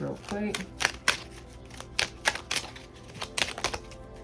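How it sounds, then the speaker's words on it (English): Tarot cards are shuffled in rapid, crisp riffling bursts, close by, with a voice speaking alongside. "so I'm going to keep shuffling."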